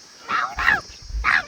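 A dog gives three short, close yelping barks in quick succession, each a sharp bright burst with brief gaps between.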